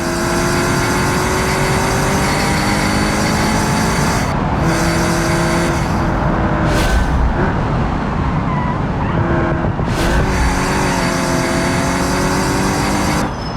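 A car engine braking in BeamNG racing with fading brakes: loud continuous engine drone with gear-change dips and rising revs, steady and close throughout.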